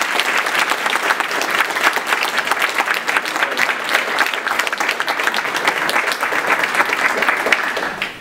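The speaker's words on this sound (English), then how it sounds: "people clap before you said anything" A large audience at a university computer science event gives loud, sustained applause, dense continuous clapping that holds steady for several seconds before beginning to fade at the end.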